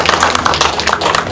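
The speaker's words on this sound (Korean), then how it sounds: "뜨거운 격려와 힘찬 박수 부탁드립니다" Applause from an audience at a residents' autonomy association inauguration ceremony in a city hall conference room: a dense, steady patter of many hands clapping throughout the brief moment, with no talk.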